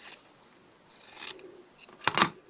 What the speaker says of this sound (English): you're just going to cut right across there like that